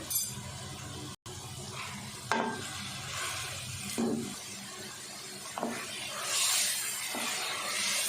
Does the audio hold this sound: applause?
no